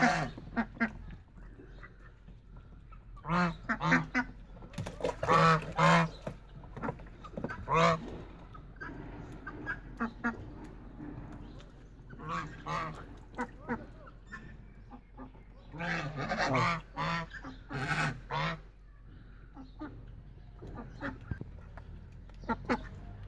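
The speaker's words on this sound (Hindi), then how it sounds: "माशाल्लाह जी डक्स हमारी बहुत ज़्यादा खुश है जी, काफ़ी ज़्यादा शोर भी डाला हुआ है इन्होंने।" Ducks splashing in a village pool, quacking loudly in noisy overlapping bursts with short pauses, close by, and no talk.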